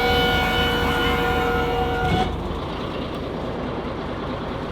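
An off-road side-by-side race vehicle's engine drones loudly and close, with a steady whining tone at first. It then shifts into a rougher, broader exhaust roar that continues evenly.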